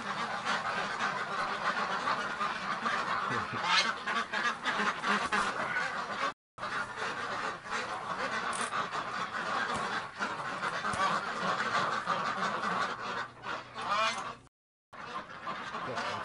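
A crowd of ducks quacks continuously and loudly inside a duck barn, dense overlapping calls filling the space with a few brief gaps.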